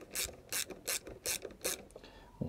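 A ratchet clicks in five or six even, crisp bursts while tightening a copper starter motor part, close and quiet with no talking.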